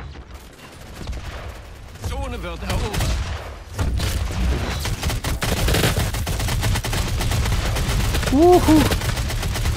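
Rapid bursts of gunfire and explosions from a DOOM 4 multiplayer match, near and loud throughout, with someone talking over the shooting.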